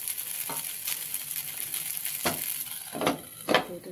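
Gunpagul made with bhagar frying in a covered pan, a steady soft sizzle and crackle with a few louder pops, heard close up and without voices.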